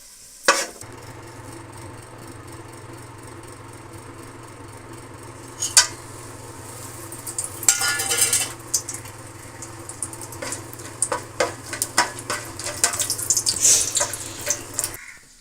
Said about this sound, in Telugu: ఈ బ్రౌన్ కలర్ వచ్చేంత వరకు వేయించుకోవాలి ఫ్రెండ్స్